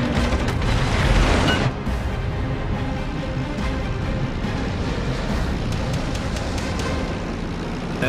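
A heavy blast opens a naval battle in World of Warships with a loud surge lasting over a second, then settles into a steady low rumble of distant gunfire and engine noise.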